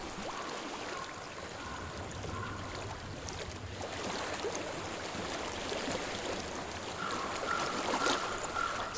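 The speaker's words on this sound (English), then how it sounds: "I hear water." Steady broadband rush of a flowing stream in Hellblade: Senua's Sacrifice, an even wash of water running throughout with faint wind, no voices.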